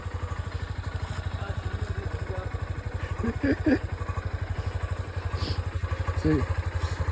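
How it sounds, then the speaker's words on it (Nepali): A motorcycle engine, started after five months unused, idles with a steady, rapid putter, with faint voices and a couple of brief clanks in the background. "मलाई अब स्टार्ट हुनु थाल्यो बाइक चाहिँ"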